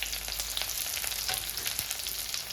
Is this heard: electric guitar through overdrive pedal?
no